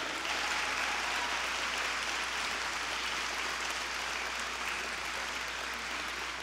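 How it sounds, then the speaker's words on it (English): Sustained audience applause at a Parkinson's expo session, a dense, even wash of clapping from a large crowd holding steady throughout. "stand up and please give them a round of applause"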